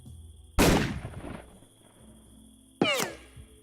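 Two sharp sniper rifle shots in the 3 Minutes to Midnight video game, a loud crack with a trailing echo followed a couple of seconds later by a second crack, with no talk over them.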